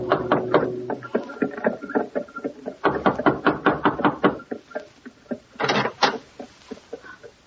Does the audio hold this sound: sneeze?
no